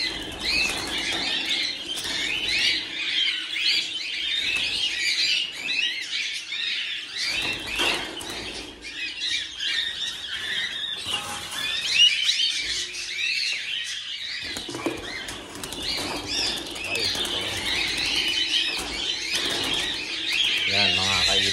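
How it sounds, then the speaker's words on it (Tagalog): Pigeons flap their wings and call in a busy flock at a harvest, with dense chirping and fluttering running throughout, close and fairly loud, and a voice talking now and then underneath. "So ayan mga kaibon"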